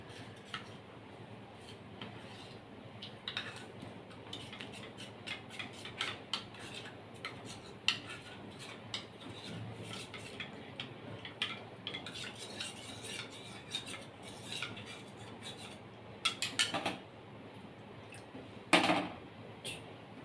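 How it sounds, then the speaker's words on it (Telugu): A spoon stirs custard powder into cold milk in a bowl, making a soft, continuous scraping and swirling that stays quiet throughout, with a few sharper clinks near the end. "కస్టర్డ్ పౌడర్లో ఏంటంటే ఇది ఇలా మనము కలుపుకోవాలండి, ఉండలు లేకుండా కలుపుకోవాలి"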